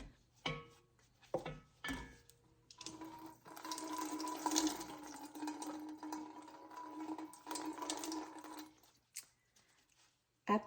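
Whey for farmers cheese drains and pours out in a steady splashing stream for several seconds, framed by brief knocks and handling sounds, with no talking.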